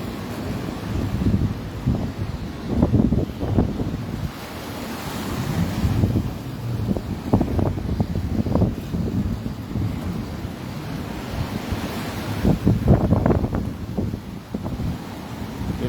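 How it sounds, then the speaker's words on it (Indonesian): Steady roar of high surf with strong gusting wind buffeting the microphone on the coast at Tana Beru, Bulukumba, Indonesia, swells rising and falling in loudness throughout, no voices. "Wilayah Kabupaten Bulukumba terus dilanda dengan angin kencang dan gelombang tinggi."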